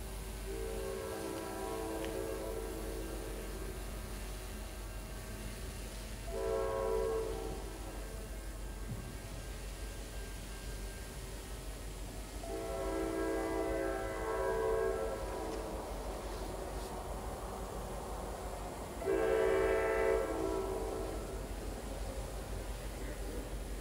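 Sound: NJ Transit train arriving at Ramsey Main Street Station

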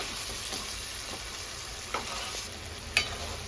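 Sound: frying onion and cashew paste in a pan

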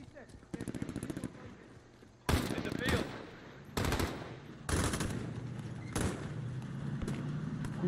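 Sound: gunfire in Modern Warfare video game

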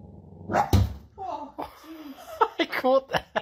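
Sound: dog barking in its sleep while dreaming

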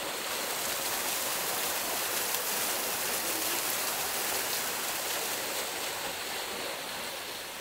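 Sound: waterfall at Ninh Binh, Vietnam

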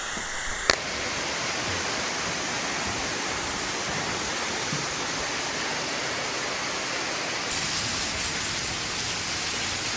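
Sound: Andık waterfall, flowing water

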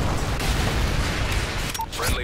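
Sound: Predator missile strike explosion in video game

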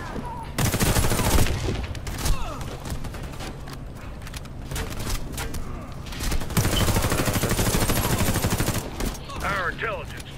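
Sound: gunfire in video game Warface

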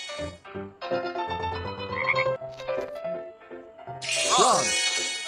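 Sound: frog croaking in a video game

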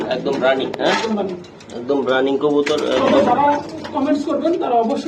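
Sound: pigeon cooing

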